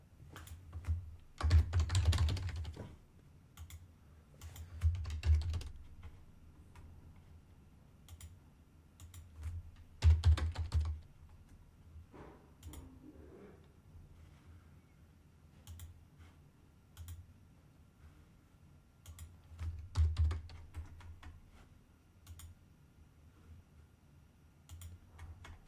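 Someone types on a computer keyboard while filling out a form, with soft, close clusters of key clicks in short bursts separated by quiet gaps.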